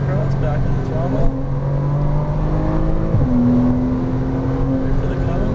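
A Porsche Cayman R's engine pulls hard on a racetrack climbing a hill, a loud, steady drone whose pitch dips sharply and then settles into a higher sustained tone as the throttle opens again.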